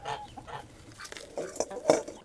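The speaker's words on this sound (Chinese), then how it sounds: "这有一只老母鸡一直在趴窝" A broody old hen sitting on eggs in a backyard coop gives short, soft clucks close by, a few scattered calls building to a louder one near the end.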